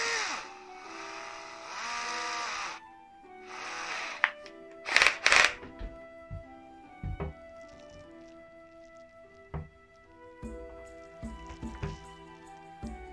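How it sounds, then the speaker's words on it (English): A power drill whirs in a few short bursts while drilling a small pilot hole for shelf building, spinning up and stopping, with clicks and handling noises between runs. "I'm going to drill a very small pilot hole"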